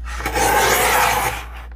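A sheet of vintage 1900s book paper is trimmed for a lap book, making one close, dry rasping slide of the cutter that swells and fades over about a second and a half.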